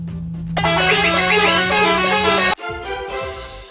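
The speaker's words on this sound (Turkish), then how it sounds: "Doni Durun bir kornamızı çalakacağız" A loud, steady minibus horn in a video game blares for about two seconds, then cuts off abruptly as engine noise continues underneath.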